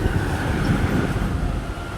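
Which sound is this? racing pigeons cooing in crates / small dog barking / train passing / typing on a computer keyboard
train passing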